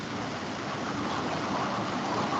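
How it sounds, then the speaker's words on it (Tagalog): Heavy rain falls on a house roof, a dense, steady wash of broadband hiss that stays loud and unbroken with no other sounds on top. "Dito, umuulan na malakas."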